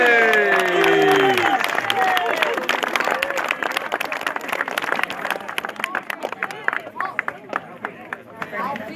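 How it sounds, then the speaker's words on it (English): Cheering and applause at a junior canal angling nationals prize-giving. A loud cheer opens, then dense clapping follows and gradually thins into scattered claps, with voices mixed in. "is big cheer for Alfie"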